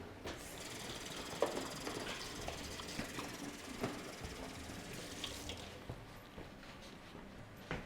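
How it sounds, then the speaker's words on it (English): Water poured into a small container for painting, a soft continuous trickle and splash lasting several seconds, quiet and close with no voices. "if you wanted to put just a little bit of water"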